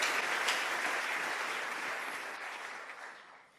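A church congregation applauds and cheers, dense clapping with a hiss of crowd noise that starts strong and gradually fades toward the end.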